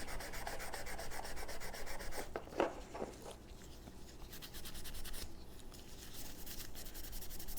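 Steady, close abrasive scrubbing as a Scotch-Brite pad rubs the old finish off a wooden Smith & Wesson revolver stock, continuous back-and-forth rasping with a brief heavier stroke partway through.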